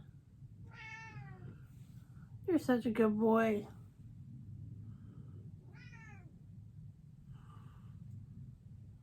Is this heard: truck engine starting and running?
no